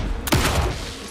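Gunfire in the video game Alan Wake 2 erupts suddenly after a brief lull, a sharp loud blast followed by a second thump and a decaying tail of echoing noise.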